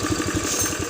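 A Honda Beat scooter engine idles unevenly up close, a steady rough putter with a faintly wavering rhythm and no voices over it.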